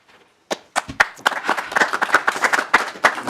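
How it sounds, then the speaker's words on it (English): Members at a House housing committee hearing break into applause after a testimony: scattered claps begin sharply, then build into a steady patter of hands for the next few seconds. "Members, please hold your applause"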